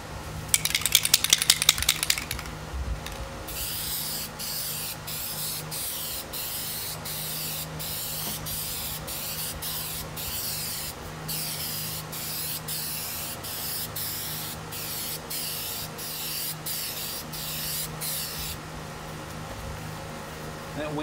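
A spray can lays a last coat of Plasti Dip onto a Buell XB9SX motorcycle tank cover outdoors, a close, loud hiss in long bursts with brief gaps, after a short rattle at the start.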